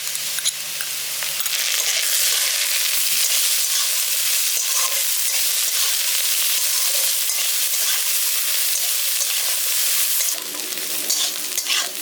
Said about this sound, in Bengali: দেখুন আদাটা দিয়েও আমি আদাটাকেও ভাজা ভাজা করে নিয়েছি